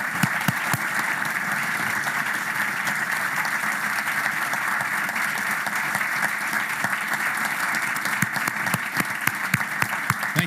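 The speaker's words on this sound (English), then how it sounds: "welcoming him with a strong round of applause" An audience at a public address on a general's leadership applauds: a dense, sustained round of clapping from a large crowd, steady and loud from start to finish.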